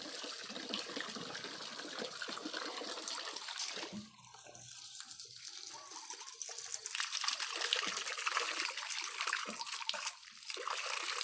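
Water poured for wild boars kept in a backyard: a steady, faint stream splashing and trickling, briefly easing in the middle before running stronger again, with no talk.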